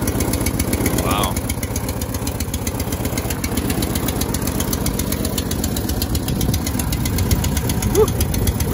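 A Honda HSS 928 snowblower engine runs steadily after a cold start at -5°F, a continuous close, loud throbbing idle with a rapid pulsing rhythm throughout, under faint wind.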